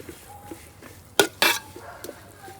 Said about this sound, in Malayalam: ഇനി പച്ചമണം മാറാൻ വേണ്ടിയിട്ട് നന്നായിട്ട് ഇളക്കി കൊടുക്കണം